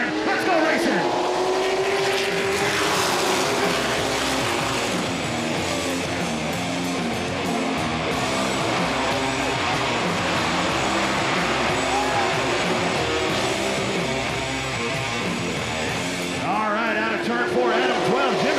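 Race cars roar loudly and continuously at the green-flag start of a CTS Affordable 250 stock car race, a dense engine drone with a commentator talking over it.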